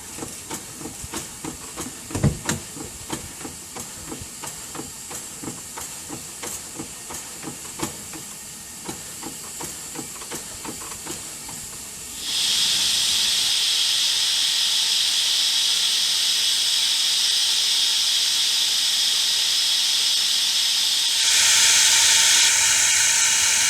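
Steam hisses from the boiler of a Stanley Model 76 steam car as it is fired up and blown down: a steady loud broadband hiss rushes in halfway through, surging stronger near the end, after quieter mechanical ticking and clanks.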